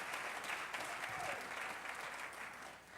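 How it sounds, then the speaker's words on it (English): An audience at a Martin Luther King Jr. Day celebration claps in a steady, dense round of applause that fills the hall evenly before gradually easing off. "round of applause for them"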